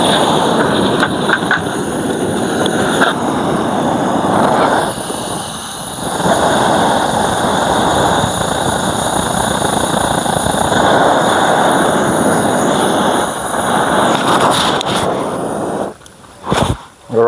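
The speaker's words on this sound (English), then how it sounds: "So this is my fire gun." A beekeeper's gas fire gun torch roars steadily and loudly at close range, a continuous rushing burn that holds for most of the stretch before sputtering and cutting out near the end.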